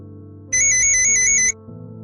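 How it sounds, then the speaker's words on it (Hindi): A mobile phone ringtone sounds once, a bright, loud electronic trill lasting about a second that stands out sharply over a low indoor hum. "अब किसका फोन आ गया?"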